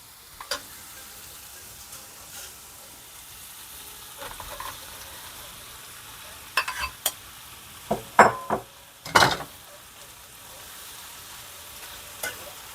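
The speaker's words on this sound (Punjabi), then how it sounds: "ਤੇ ਹੁਣ ਇਹਨੂੰ ਅਸੀਂ ਚੰਗੀ ਤਰ੍ਹਾਂ ਇਹਨੂੰ ਹੈ ਨਾ ਭੁੰਨਣਾ ਇਹਨੂੰ ਸਿਮ ਤੇ" Stuffed eggplant frying in a pan, a steady soft sizzle under a few sharp spoon clinks and scrapes as it is stirred, with no voices.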